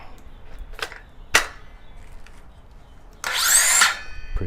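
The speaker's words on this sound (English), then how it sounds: "we're gonna see this saw in action today" Battery-powered handheld saw cutting through a board at a Miami job site: a couple of sharp clacks, then a loud, dense burst of cutting near the end, close and alone without talk.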